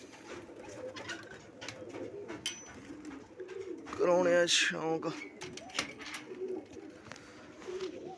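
Pigeons coo in a home loft where competition pairs are kept, a soft repeated cooing running through the clip under steady talk, with a louder burst of activity near the middle.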